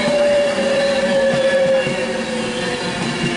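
A Northern service train pulls into Stockport station on the West Coast Main Line, a steady mid-pitched engine drone with a sustained whining tone that eases slightly toward the end, close and continuous with no talking.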